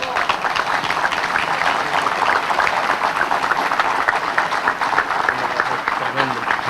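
An event crowd in Puerto Rico gives a lecturer, Professor Raúl Guadalupe, a steady round of clapping, dense and fairly loud throughout, with a voice briefly speaking near the end.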